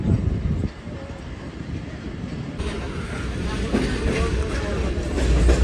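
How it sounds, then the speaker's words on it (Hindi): The Awam Express pulls out of Landi junction, a rolling rumble and rattling carriage noise building steadily as the train gets moving, heard from inside a refurbished coach. "8:50 पर तकरीबन 2 घंटे 40 मिनट लेट हमारी ट्रेन निकल रही है लांडी जंक्शन से"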